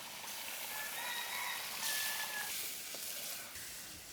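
Pieces of chicken liver sizzle in oil with cooked-down spices, a steady hissing fry that swells briefly and then settles, with no talk over it.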